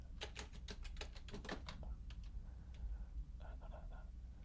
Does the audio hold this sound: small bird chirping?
no